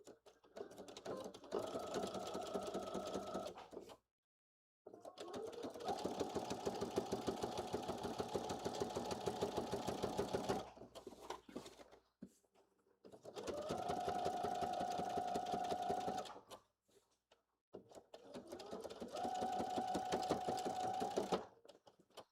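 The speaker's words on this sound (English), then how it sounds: "I'm going to switch it to a regular length stitch and then top stitch" A sewing machine topstitches a quarter inch from the edge of a blazer flap at regular stitch length, running in four steady bursts with short pauses between them, close and alone.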